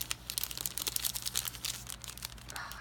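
A thin plastic bag from a planner subscription box crinkles and rips in a quiet, continuous rustle of small crackles, close by, with no voices.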